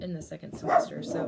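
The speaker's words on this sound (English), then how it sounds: "that's my dog because someone's knocking at the door." Dog barking during indoor talk, set off by someone knocking at the door; short barks sit under and between a person speaking, fairly close and moderately loud.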